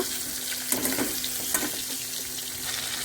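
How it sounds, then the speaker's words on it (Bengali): Koi fish frying in a pan ahead of a bottle gourd greens curry: a steady, close crackling sizzle with a few brief louder spits, and no talking. "মাছটা ভাজা হয়ে যাক একটু"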